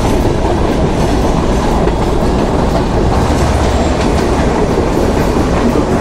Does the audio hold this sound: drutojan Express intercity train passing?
yes